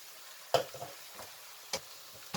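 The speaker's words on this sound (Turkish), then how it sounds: "İç harcımı güzelce karıştırıyorum arkadaşlar." Rice stuffing for olive-oil stuffed vine leaves being stirred in a bowl, with a couple of sharp spoon knocks among soft mushy mixing sounds, no talking.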